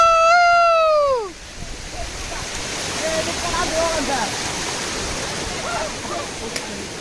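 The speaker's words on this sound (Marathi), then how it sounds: "खूपच पाणी धोधोत आहे" Heavy water gushes in a steady, loud broadband roar near a waterfall in Satara, preceded by a brief falling tonal call at the start.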